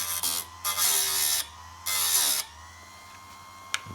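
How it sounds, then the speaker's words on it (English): A small grinder sharpens the teeth of a saw blade in short, loud, close whining bursts, two longer passes separated by gaps, followed by a quiet hum and a single sharp tick near the end, with no talking. "Let's just go around the teeth and sharpen it all up."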